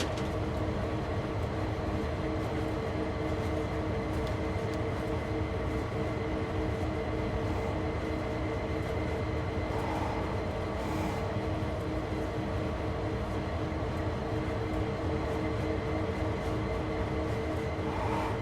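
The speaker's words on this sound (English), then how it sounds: "This is like the strangest locomotive in the history of locomotives that I have ever seen in my entire career on trains." Locomotive in a Dovetail train simulator game, a steady droning engine hum with tonal rumble and rail noise running unbroken for the whole stretch at low level, no talk over it.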